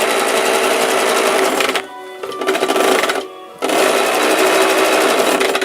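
A Westinghouse model ALB sewing machine runs with a steady mechanical whir, pauses briefly twice, then starts up again at full speed.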